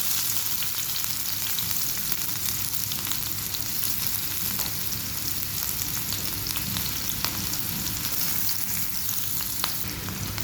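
Onions frying steadily in hot soybean oil for a Bangladeshi chickpea (boot) dish, a dense continuous sizzle with occasional crackles and faint stirring, close and unbroken throughout.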